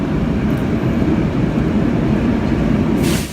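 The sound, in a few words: Tokyo Metro train running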